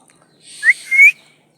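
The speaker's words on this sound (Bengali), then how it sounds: "আরো কত ময়না আইছে দেখেন" A myna gives one short, clear whistled call of two rising notes, close and loud against otherwise quiet surroundings.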